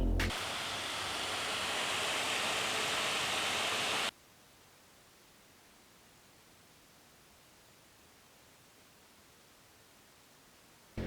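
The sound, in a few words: laptop cooling fans under load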